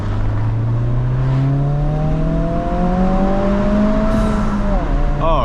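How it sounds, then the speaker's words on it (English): A stock turbocharged car drives along a road through tunnels and over bridges. The engine pulls with a steadily rising tone, and the turbo whistles and whooshes close by and loud, ending in a quick flutter as the throttle lifts. "I love just hearing the turbo noise, man."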